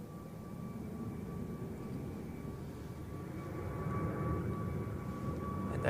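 A roughly 25-year-old Boeing 767 airliner at Zurich Airport, heard as a faint, distant, steady engine rumble that swells slightly toward the end, with no voices.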